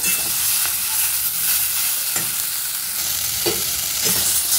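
Vegetables for a bitter Bengali curry fry in a pan with a loud, constant hissing sizzle, broken by occasional stirring scrapes and soft knocks from a utensil.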